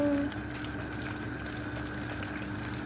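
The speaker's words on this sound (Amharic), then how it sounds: "ራይዝ ደግሞ በዚህ መልኩ እዚህ ጋር ፍልፍል እያለ ነው" Rice bubbling as it boils in an uncovered pot, a steady close simmer of small pops and gurgles running continuously throughout.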